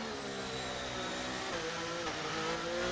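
F1 car engine on a flying lap in the F1 23 racing game, a steady high-pitched whine holding throughout with a shifting pitch, loud and continuous with no other sounds.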